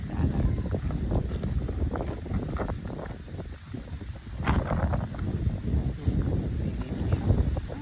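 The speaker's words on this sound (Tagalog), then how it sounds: "Mahangin." Gusty wind buffets the microphone in loud, rumbling rushes that rise and fall continuously.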